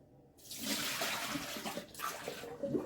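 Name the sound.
excess water being poured out of a cooking pot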